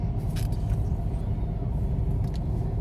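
Traffic jam on a busy, crowded road: a continuous low rumble of idling and slowly moving cars around the listener, with a few brief passing sounds on top and no speech.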